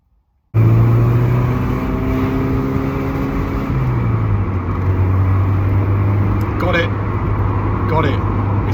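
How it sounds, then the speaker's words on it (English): An Alfa Romeo GTV engine idles roughly with a bad misfire, a loud, close, steady drone whose pitch drops partway through, broken by a few sharp irregular knocks near the end. "It's misfiring really bad."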